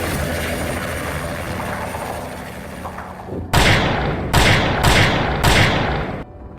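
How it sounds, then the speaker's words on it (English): Low rumbling engine noise as a helicopter flies overhead, then a series of loud whooshing rotor beats, four heavy pulses close by before fading out. "the sound of a helicopter came from the sky behind."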